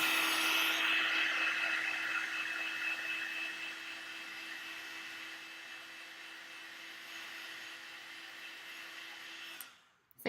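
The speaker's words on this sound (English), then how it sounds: "So you can use your heat tool to dry your paste as well." A craft heat tool blows steadily to dry embossing paste on a handmade card, a continuous whirring hiss with a faint high whine, close and loud, fading slightly before cutting off at the end.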